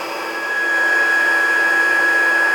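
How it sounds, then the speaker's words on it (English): A heat embossing tool runs on its highest setting with a loud, steady fan whir and a thin whine, close up and uninterrupted throughout. "We're going to take our handy dandy heat emboss tool, turn it on to the highest setting"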